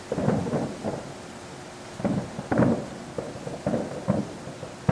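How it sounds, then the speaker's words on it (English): Distant fireworks at Turtle Bay in October, several deep rolling booms in uneven bursts, a few seconds apart, with a low rumble between them and no one speaking. "A lot of fireworks."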